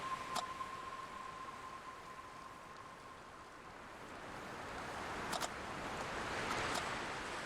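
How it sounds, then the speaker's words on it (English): Steady ocean waves from the horror video game Without a Dawn roll as a continuous broadband wash with gentle swells, with no speech, plus a long faint tone near the start and a few brief clicks later. "The sound of the waves has a unique quality to it."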